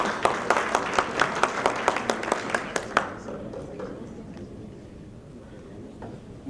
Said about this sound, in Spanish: cálidos aplausos para el doctor Madrigal